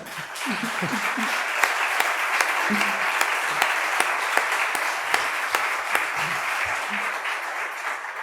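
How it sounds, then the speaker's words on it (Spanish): Audience applause at a cultural lecture event, a sustained even wash of clapping with a few sharper claps and brief voices underneath. "quiero dedicarle un fuerte aplauso porque se lo merece"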